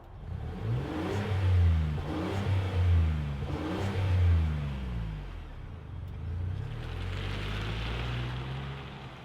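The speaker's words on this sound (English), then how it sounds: "let's fire it up and hear what it sounds like." A 2025 Ford Expedition King Ranch SUV engine starts and revs up several times in a row, each rise and fall of rpm clearly audible and fairly close, before settling into a steadier idle-like drone, with no talking.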